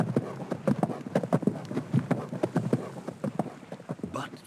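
Hooves of a chieftain's horse riding up at speed, a quick, rhythmic clip-clop of galloping footfalls, close and distinct, slightly uneven toward the end.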